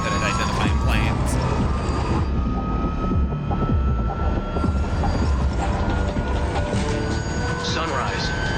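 A cargo plane's engine drones steadily inside the aircraft during a drop mission in Metal Gear Solid 3: Snake Eater, a loud constant roar with a voice talking over it.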